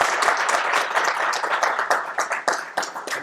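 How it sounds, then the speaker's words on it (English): A modest audience applauds a speaker at an evening talk, starting as a dense patter and thinning into fewer, distinct individual claps as it winds down. "Can we just give her a round of applause?"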